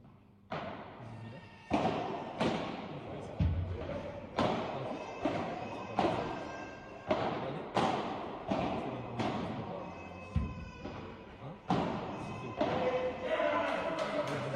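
Padel ball struck repeatedly during a tournament final rally in Strasbourg, a series of sharp, hollow thuds roughly every second, close and clear, with commentators' voices underneath.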